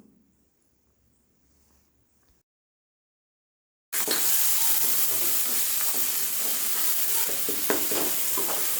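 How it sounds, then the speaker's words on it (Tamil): Finely chopped tomato frying and being stirred in ginger garlic paste for butter chicken, a quiet start and a short silence, then a loud, constant sizzle and hiss with scraping stirs. "இதுவும் நல்லா கிளறி விடுங்க."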